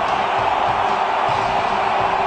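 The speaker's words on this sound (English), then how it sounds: "And the crowd go berserk" Cricket stadium crowd at a Mumbai Indians versus Chennai Super Kings match roars after a six, a dense, sustained wall of cheering that stays loud and even throughout.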